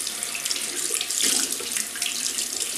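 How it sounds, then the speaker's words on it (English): A bathroom tap runs steadily to wet a synthetic shaving brush, a close, continuous hiss of splashing water with slight shifts as the brush passes under the stream. "Just going to wet this synthetic brush."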